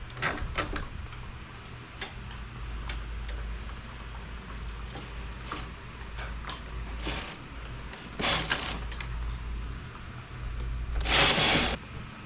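A domestic knitting machine runs a row at high tension while making a neck wrap: rapid mechanical clicks and sharp carriage clatters under a steady low hum, with louder rushing sweeps near the end.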